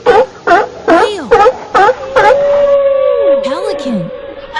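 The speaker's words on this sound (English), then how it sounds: "Whale." A whale call: a series of six loud, rhythmic, moaning pulses, then a long sustained tone with swooping, sliding cries over it, close and clear.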